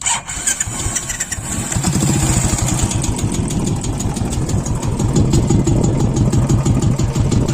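Royal Enfield Bullet 350 BS3 fitted with an Indori silencer starts up, then settles into a loud, close, rapid thumping exhaust idle with a steady, even beat.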